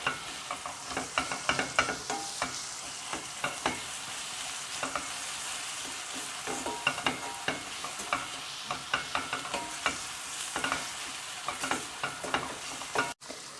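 Tomato paste and spices sizzle steadily in a pan for a Turkish olive-oil cauliflower dish, with irregular close scrapes and taps of a spoon stirring through the fry.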